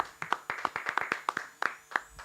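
A small group claps in a radio studio on Flores Negras, giving a run of fairly quiet, slightly uneven hand claps, each one distinct and crisp.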